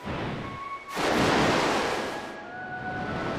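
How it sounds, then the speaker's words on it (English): High ocean waves in the video game Legend of Mana: a steady watery wash that swells into a loud surging crash around the first second, then settles back into a continuous rush, with no voices. "We got high waves coming on the starboard side."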